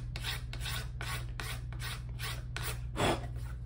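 Guitar pickguard edge smoothed with a rasp or file in repeated back-and-forth rubbing strokes, about seven even scrapes close by, one slightly louder near the end, no voices.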